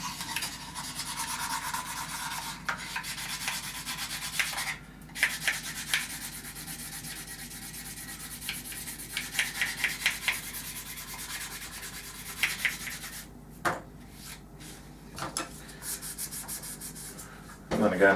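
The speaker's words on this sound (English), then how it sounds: "Might as well give the whole surface a bit of a sand while we're at it." A blue sponge sander rubs steadily across the surface of a plastic model kit, a close, continuous scratchy sanding with short pauses and strokes, no voices.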